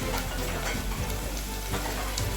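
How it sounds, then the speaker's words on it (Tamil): Onions sauté in a pan until golden for a potato chicken curry, a dense, loud, continuous sizzle and crackle with faint stirring scrapes mixed in. "வெங்காயத்தை நல்லா வதக்கிக்கங்க. நல்லா பொன்னிறமாக வதங்கணும்."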